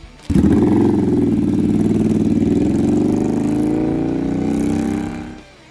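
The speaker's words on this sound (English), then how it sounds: "At its heart beats an 805 cubic centimeter liquid-cooled V-twin, producing steady mid-range power and a confident rumble that never feels strained." An 805cc liquid-cooled V-twin cruiser engine with a five-speed gearbox and shaft drive, holding a loud, steady low rumble close by for about five seconds before cutting off abruptly.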